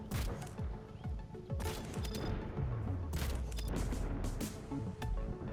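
Heavy main cannons on an armed barge fire in a video game, a rapid fusillade of loud booming shots and crashes in quick bursts, with a falling mechanical whine sliding underneath.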